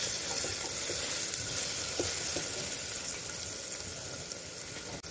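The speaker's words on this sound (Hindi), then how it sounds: "प्याज को थोड़ा सा गोल्डन होने तक भून लेते हैं।" Finely chopped onions frying in a pan, a steady close sizzle with faint stirring scrapes, continuous and moderately loud without any talk.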